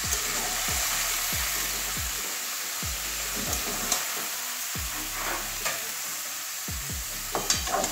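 Boiled potato being stirred into a jackfruit curry with katla fish head in a pan, giving a steady rhythm of scraping strokes over a soft, continuous sizzle.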